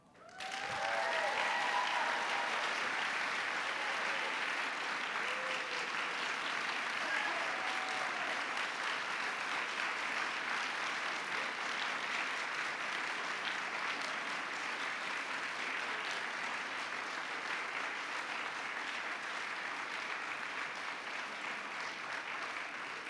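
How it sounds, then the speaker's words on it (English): Sustained audience applause fills a swearing-in ceremony for a San Francisco city attorney, loud and steady from start to finish with a brief voice near the opening. "Let's give her one more round of applause."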